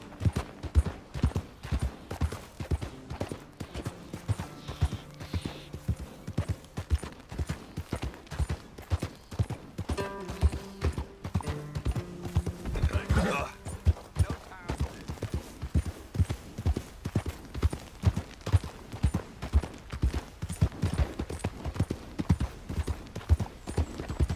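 Horse hooves clip-clopping in steady rapid rhythm while riding in Red Dead Redemption 2, close and continuous throughout, with faint background game sounds.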